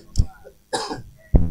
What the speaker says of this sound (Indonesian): kondisi kurang sehat karena lagi batuk juga